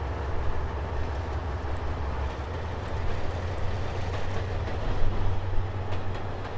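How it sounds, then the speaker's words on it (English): A fast locomotive in a train simulator game rumbles steadily along the rails, a continuous loud rolling drone with faint rhythmic clatter and no talk over it. "It's a pretty fast locomotive, to be honest."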